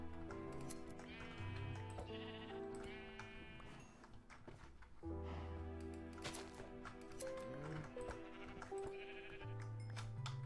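Sheep in the Minecraft video game bleat repeatedly, with several overlapping wavering calls set against background game music and faint clip-clop and clicking game sounds.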